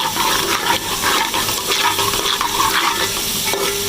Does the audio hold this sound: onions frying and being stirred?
yes